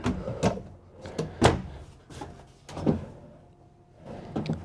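Several soft thuds and gentle slides from a soft-closing storage drawer easing shut in a 2024 Newmar Dutch Star 4325 motorhome, spaced a second or so apart, with quiet room tone between.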